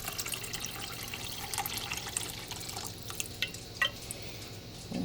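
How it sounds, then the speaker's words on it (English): Water is poured from a cup into a soup pot for sausage and potato soup, a faint trickling and splashing with small drips over quiet kitchen background. "I'm putting the 4th cup of water in."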